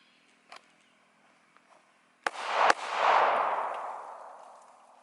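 Two sharp outdoor live-fire handgun shots crack in quick succession during a shooting drill, the second trailing into a long rolling echo, after a few faint clicks.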